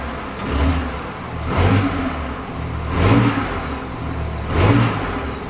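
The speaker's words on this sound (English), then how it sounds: "we're just going to go ahead and give the engine a few revs" A BMW i8 engine, just back together after a spark plug change, revs up about four times in short, evenly spaced bursts that rise and fall over a steady idle, loud and close with no talking.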